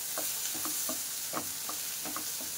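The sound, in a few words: tomato and tamarind sautéing in a pan for chutney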